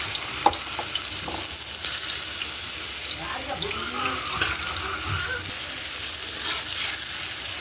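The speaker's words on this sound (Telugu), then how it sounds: "ఫస్ట్ అల్లం వెల్లిపాయ పేస్ట్ వేయించుకుందాం" Ginger garlic paste fries in hot oil, a broad steady sizzle with scattered pops and stirring scrapes, close and moderately quiet, continuing alone without talk.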